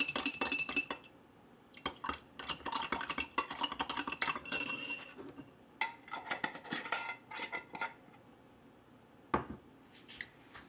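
Ice cream topping being stirred into a mixture in a container, with repeated scraping and clinking strokes in uneven bursts, fairly close, with no talking.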